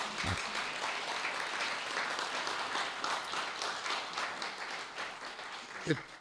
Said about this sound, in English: I just want a round of applause for Dick Whitney.